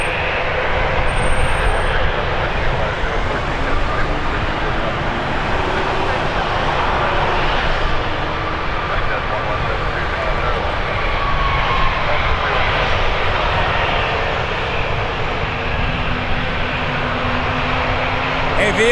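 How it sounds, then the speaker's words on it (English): Embraer 195 E2 jet airliner at Toronto Pearson airport, a steady, loud engine roar that fills the whole span without a break, with faint voices in the background. "Dakota 167 headed to Ottawa, or Yao, baby. Embraer 195 E2."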